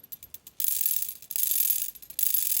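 Small ball bearings tick and rattle in holes over grooves inside a zirconium fidget toy, light quick clicks giving way to bursts of rapid, ratcheting clatter close up.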